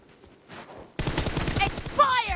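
Rapid gunfire from PUBG Mobile, a dense run of shots bursting in loud after a quieter opening, with a sharp ringing hit near the end, under a caster's talk.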